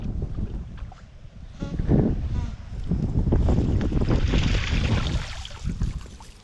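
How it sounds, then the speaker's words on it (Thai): Strong wind blows at the sea on a fishing outing in Korea, gusting and buffeting the microphone in loud uneven surges, with faint voices at moments. "วันนี้ลมมาแรง"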